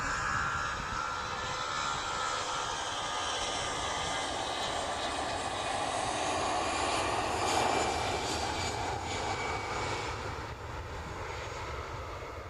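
A Lufthansa airliner departs runway 23 left at Manchester Airport at dawn, its jet engines a steady broad roar that holds loud and constant throughout, swelling slightly near the middle.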